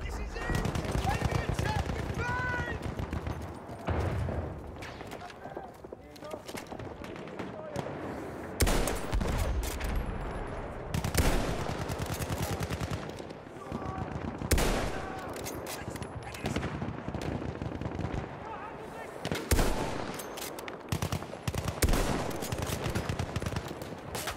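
Battlefield 1 multiplayer combat with loud bursts of rapid gunfire and scattered single shots, some near and some distant, in uneven clusters under occasional talk.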